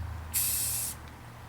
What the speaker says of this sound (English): when you start to spray, just start spraying the miniatures